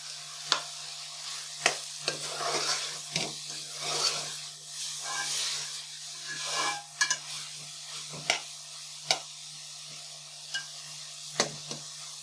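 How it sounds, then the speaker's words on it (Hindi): Ground chicken keema with chopped ginger fries in a pan, a moderate sizzle punctuated by sharp, regular spatula knocks and scrapes every second or so, close by with no speech. "अभी मज़ीद 5 मिनट और लगेंगे इसको फ्राई होने में।"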